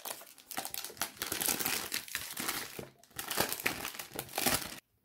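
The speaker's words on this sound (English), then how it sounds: "Let's unwrap it." Packaging of a Baccarat Rouge 540 perfume by Maison Francis Kurkdjian is unwrapped up close, a busy run of crinkling and crackling wrapper sounds in two bursts with a short pause, then ending abruptly.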